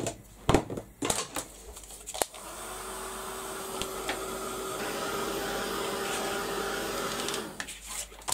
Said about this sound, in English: I'm going to give that a quick blast with the heat gun.